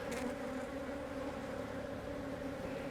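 Honey bees buzz around a brood frame lifted from a hive, a close, continuous droning hum that stays steady and fairly quiet, with no talking.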